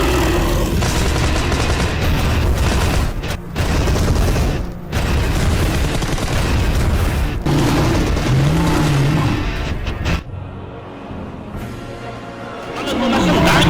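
Gunfire in a dramatic Spanish-language scene, with loud, dense bursts of shots and booms filling most of the stretch, mixed with voices and a brief quieter pause near the end.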